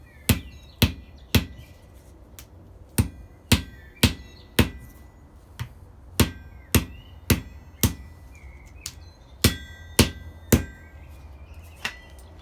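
A blacksmith hammers a metal taper with a hand hammer, delivering sharp, ringing strikes in uneven bursts and clusters, close and loud, with brief pauses between groups and no talking.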